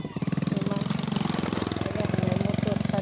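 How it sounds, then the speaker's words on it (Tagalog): A motorcycle engine chugs close by with a steady rapid pulsing beat on a hot roadside, loud and continuous, with faint voices underneath. "may motor pa na dumaan"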